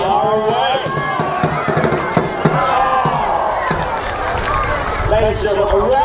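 Lances clatter at a castle jousting tournament as a large outdoor crowd shouts and cheers, with horses running and a commentator's voice carried through the noisy, continuous din; several sharp cracks stand out from the roar.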